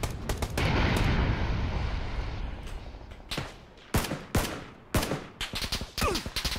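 Gunfire in PUBG near a Jeep by a tree, starting as a dense loud burst of rapid shots in the first two seconds, then separate sharp single cracks and short volleys spaced through the rest, with no talk.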